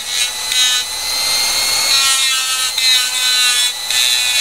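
A bone guitar nut ground freehand against a clean grinding wheel, giving a loud, steady high-pitched abrasive whine that swells and eases in pressure over several passes, close up with no talking.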